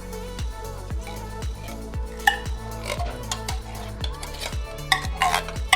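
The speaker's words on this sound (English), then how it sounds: "the frozen hash browns aren't sticking together, so you just want to give this a nice stir" Frozen hash browns stirred in a dish for a cheesy potato casserole, a steady rhythm of soft scraping strokes repeating about twice a second, close and moderately loud, with occasional light clinks.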